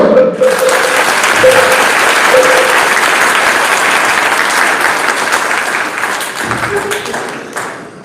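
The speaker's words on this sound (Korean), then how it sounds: "박수." Loud, sustained applause from a large group of about 600 Marine Corps trainees at a Buddhist precepts ceremony in a temple hall, fading slightly toward the end, with a few brief voices over it.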